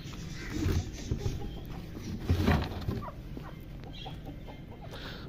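Chickens clucking in a backyard coop with pigeons and other birds nearby, several soft irregular clucks and rustling up close, with occasional louder bursts and no talking.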